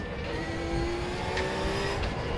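A high-revving Porsche 911 GT3 R race car engine in RaceRoom Racing Experience whines steadily at sustained pitch, a continuous loud mechanical drone with no talking.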